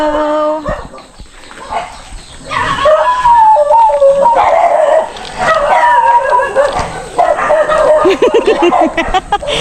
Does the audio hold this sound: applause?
no